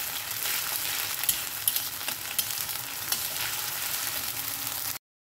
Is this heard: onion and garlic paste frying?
yes